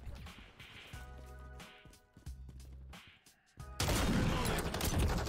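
Bursts of automatic gunfire from Call of Duty: Warzone on Rebirth Island, several rapid volleys separated by short pauses, then a louder, denser stretch of shooting and noise near the end.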